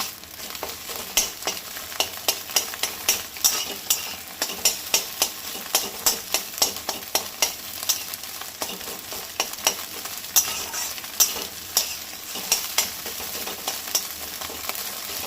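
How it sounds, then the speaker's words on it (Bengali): Egg frying in oil in a wok while a utensil chops it into small pieces: a steady sizzle under rapid, rhythmic scraping knocks that repeat about twice a second, close up with no talking. "ডিমটা আমি কিন্তু কড়ার মধ্যেই তেল দিয়ে কুচো কুচো করে দিচ্ছি"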